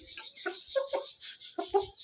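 Ducks in a village yard give short, nasal, clucking calls, several close bursts in quick irregular succession against near silence.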